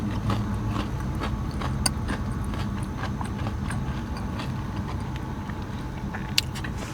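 Someone bites into crunchy, fresh Taco Bell crispy chicken strips, giving faint scattered crunches over a steady background noise and no talking.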